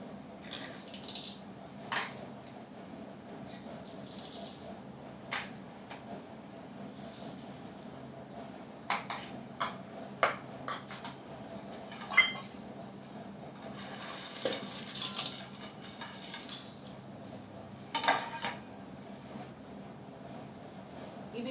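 Dried soapnuts are dropped one by one into a bowl to make homemade herbal shampoo, producing sparse, soft clicks and taps at uneven intervals over a quiet background.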